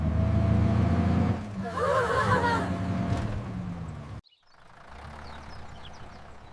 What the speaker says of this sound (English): The bus is moving.